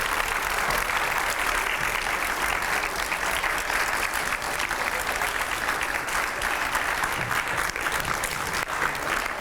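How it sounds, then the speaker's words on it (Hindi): Loud, continuous applause from a television studio audience welcoming politician Uma Bharti, a dense, even roar of clapping that holds steady for several seconds without pause. "जोरदार तालियां, रुकनी नहीं चाहिए"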